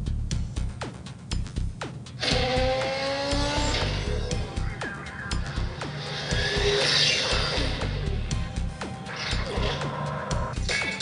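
Racing video game on an iPad playing engine roar, tyre squeals and skids with a few crash impacts, continuous and fairly loud throughout, with faint talk underneath.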